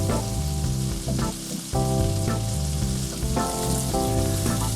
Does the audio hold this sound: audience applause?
no